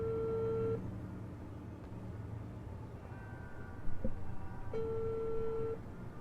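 A phone call dialing in the video game Unheard: quiet tonal beeps sound, one long tone, a short pause, another tone, then a second long beep over a faint murmuring background.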